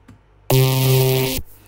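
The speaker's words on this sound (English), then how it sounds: "Really crispy." A single loud, gritty distorted synth bass note with a crackly, saturated top, held just under a second before cutting off abruptly.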